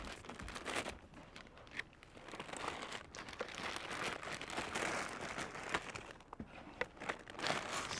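Plastic bag crinkling and rustling continuously as marinated jerk baby back ribs are bagged, close and fairly faint, with scattered sharper crackles throughout and no talking.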